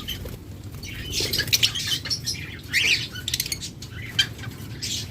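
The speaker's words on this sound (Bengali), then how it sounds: "এখানে রয়েছে চোদ্দ পনেরো মাস বয়সের লাভবার্ড" Caged lovebirds around fourteen to fifteen months old chirp and squawk at close range, with bright bursts of tweets, scattered wing flutters and patter over a steady low background.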